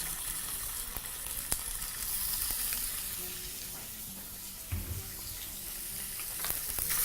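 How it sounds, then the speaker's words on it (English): Beef pieces browning in hot oil in a pan at high heat give off a steady close sizzle and crackle, with a few faint stirring knocks and no talking. "proceed to brown your meat."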